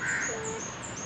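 Outdoors in fine weather, a crow-like bird gives a few cawing calls over a steady background of outdoor ambience, moderately loud and with no talk.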